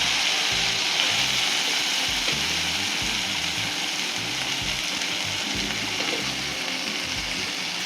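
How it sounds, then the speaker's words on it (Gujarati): Onions tumbling into hot oil already seasoned with asafoetida and a red chili, giving a steady, loud frying sizzle that holds evenly throughout with no voices. "ત્યારબાદ તરત જ આપણે ડુંગળી એડ કરી દઈશું."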